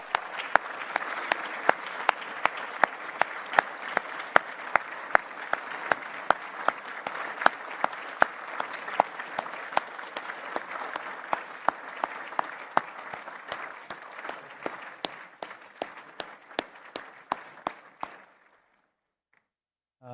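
Sustained applause from the audience at the Order of British Columbia investiture ceremony, many hands clapping with a few sharp loud claps standing out, fading out near the end.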